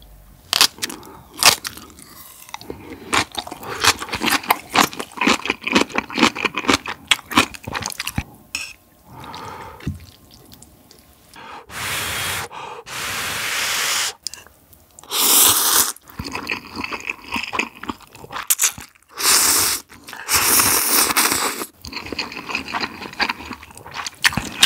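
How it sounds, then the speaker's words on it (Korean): Fresh geotjeori kimchi is eaten close to the mic alongside a Spam bowl ramyeon, with a long run of irregular wet crunching, chewing and squishy bites. There is no talk. "갓 버무린 겉절이와 함께 얼른 먹어보도록 하죠."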